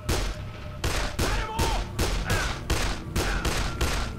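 Rifle gunfire in the zombie video game Dead Island: a rapid series of about eight loud, evenly spaced shots, each with a sharp crack and short rumbling tail, alone without talk.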